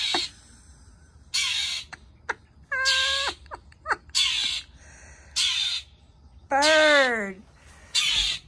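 A crow caws repeatedly nearby, harsh loud calls in uneven bursts, mixed with squawking, warbling call shapes that may be a voice imitating the bird.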